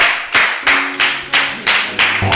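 A studio audience claps for the artist Pheno Boy during a TV interview, heard as six or seven sharp, evenly spaced bursts of clapping, loud and close, with no talk over them.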